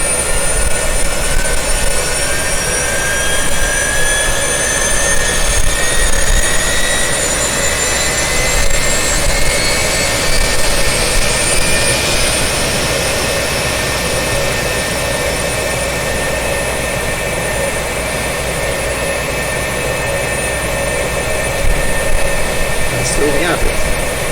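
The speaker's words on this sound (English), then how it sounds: "Let's start the other engine. Crank left." The simulated engine of an F-4 Phantom II fighter jet spools up in a flight simulator, a loud steady roar with a faint whine slowly rising in pitch throughout.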